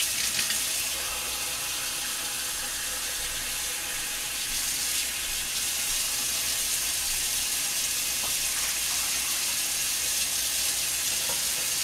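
Warm water running from a kitchen tap for bread dough, a steady continuous splashing rush that fills the whole stretch, with no talking over it.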